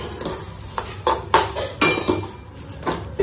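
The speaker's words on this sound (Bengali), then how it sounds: "আর এখানে চলছে চিড়ে ভাজা, পুরো লাল লাল করে হবে" Flattened rice (chire) dry-frying in a pan until deep red, a metal spoon stirring it with a run of sharp clinks and scrapes roughly every half second, close and fairly loud.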